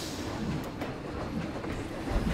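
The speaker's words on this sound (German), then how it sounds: "Da ist der nächste Zug." Train rolling past in the Planet Coaster theme park game, a steady broadband rumble with faint rhythmic clatter of wagons, moderately close and continuous without voices.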